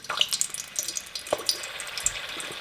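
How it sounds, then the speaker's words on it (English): Small cannoli shells wrapped around straws fry in vegetable oil heated to 350 degrees, giving a close, steady sizzle with scattered sharp pops and crackles throughout. "I poured some vegetable oil, heated to 350, and fried until golden brown"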